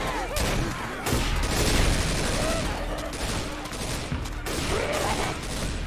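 Rapid bursts of gunfire in the video game Left 4 Dead 2 crackle continuously, loud and close, with brief pauses between volleys and a few shouted voices mixed in.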